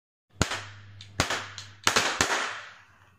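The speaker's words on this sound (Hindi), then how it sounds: "तो ये गन इस तरीके से चलती है, इसमें 8 बुलेट होती है।" Toy cap gun loaded with roll caps, bought for Diwali, fires four or five sharp cracks close up at an uneven pace, with a steady low hum under the shots.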